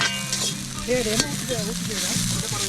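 Onions frying in a large pot outdoors, a steady sizzle with some stirring scrapes layered over a continuous low musical hum throughout.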